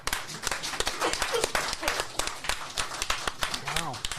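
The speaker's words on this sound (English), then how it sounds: "a completely natural slow clap from the audience" A studio audience gives a slow clap, sharp individual claps repeating at a steady beat over chatter and laughter from people talking.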